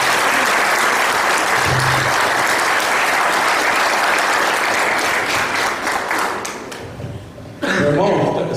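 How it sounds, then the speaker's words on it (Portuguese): Church congregation applauding, a dense, sustained round of clapping from a crowded hall that gradually fades, followed by a short burst of music and voices at the end. "Uma salva de palmas para os irmãos aí."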